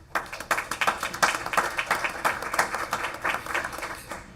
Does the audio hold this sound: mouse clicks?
no